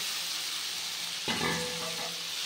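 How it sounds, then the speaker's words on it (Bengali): Spice paste for a soybean and potato dopiaza being sautéed with a little water in a pan, a soft steady sizzle that flares briefly louder partway through. "তো একটু জল দিয়ে আমি কষিয়ে নিচ্ছি মশলাটা"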